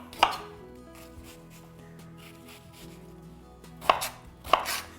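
A knife slices onion into planks on a cutting board for braised red cabbage, with three crisp, sharp chops spaced far apart. Quiet background music plays in between.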